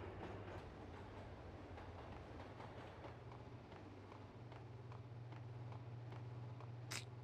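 A subway train at a station in Max Payne rumbles in a steady low drone with faint rhythmic clicking of wheels, continuous and fairly distant, with a short sharp squeal near the end.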